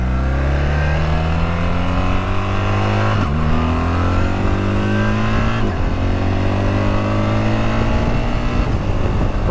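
Suzuki GS1300 motorcycle engine droning loud and steady at highway speed, rising in pitch as it revs up through the gears with a few brief shifts, close and constant throughout.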